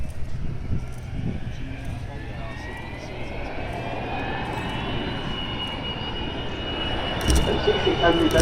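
Avro Vulcan XH558 delta-wing jet bomber flying past with its gear down at Farnborough Airshow, a steady broad distant jet rumble and whine that swells toward the end, with a commentator talking over it.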